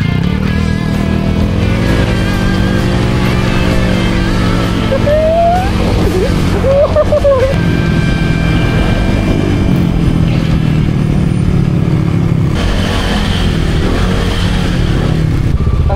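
A Honda Click 180cc scooter rides a rough, potholed road in Zambales, its engine droning loudly and steadily close to the mic with wind rush, brief squeaks and rattles, and faint voices underneath.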